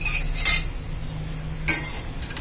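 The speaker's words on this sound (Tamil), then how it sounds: "பொறுமையா நிதானமா வறுக்கணும், கைவிடாம கிண்டணும்" A metal spoon scrapes and clinks against a pan while urad dal dry-roasts, a few sharp close clinks over a steady low background hiss.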